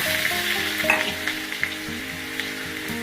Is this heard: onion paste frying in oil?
yes